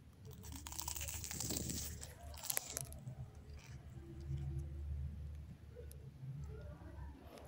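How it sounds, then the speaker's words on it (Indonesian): Crispy fried tofu stuffed with egg (tahu brontak) crunches close up as it is bitten and chewed, with crackly crunches at the start giving way to softer chewing. "Coba kita denger ya, itu garingnya enak banget. Renyah gitu teman-teman."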